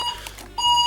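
A Jensen SRWS1000 clock radio alarm sounds close and loud as a shrill, steady electronic tone that drops out briefly mid-way before resuming.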